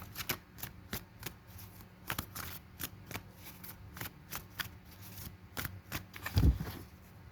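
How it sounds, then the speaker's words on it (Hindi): Tarot cards shuffled and drawn by hand, a quiet series of soft riffling flicks and slaps at an uneven pace, close and alone, ending with a slightly firmer knock. "छह कार्ड निकालते हैं।"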